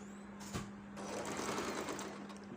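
A sewing machine stitches pieces of fabric for a meri blouse, its motor whirring in a quiet, steady run after a short burst, close and clear with no voices.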